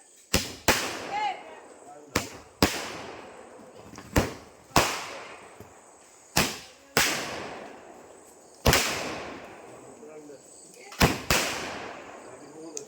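Vishu firecrackers from a 30-shot sky shot go off in a loud, irregular string of sharp bangs, each followed by a brief crackling tail, with short pauses between bursts.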